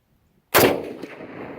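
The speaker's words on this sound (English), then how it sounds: "Shooting soft point ammo out of it." A single sharp, loud rifle shot from a Springfield M1A firing soft point ammunition outdoors, an abrupt crack followed by a decaying echo.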